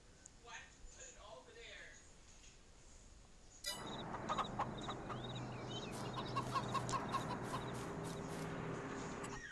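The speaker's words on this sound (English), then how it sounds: "Five roosters and then the chickies." Roosters and chickens clucking and squawking in a farmyard in Farming Simulator 22, a busy moderate chorus that starts a few seconds in and continues steadily with sharp repeated clucks.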